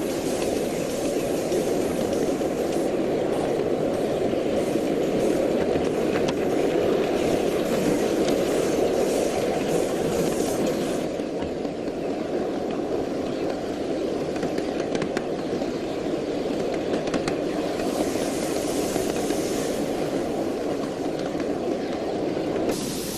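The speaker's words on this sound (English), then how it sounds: "Another steamer comes in off a branch and falls in right behind us." Miniature steam locomotive train rolling on the Train Mountain railway, a continuous loud rumble and rail clatter held steady throughout, close by with no talk.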